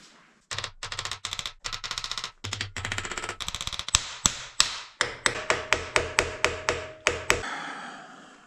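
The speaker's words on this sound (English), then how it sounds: "Bring out the hammer." A hammer strikes metal on a Kirovets tractor in a series of sharp blows, irregular at first and then settling into a steady rhythm of single hard hits, close and loud, ringing briefly after each.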